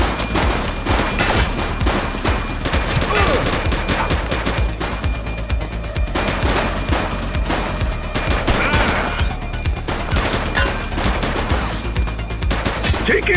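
Sustained gunfire in The Precinct police game during an August gang raid in Averno: dense, continuous bursts of automatic and rapid shots layered over one another, loud and close throughout with scattered crashes.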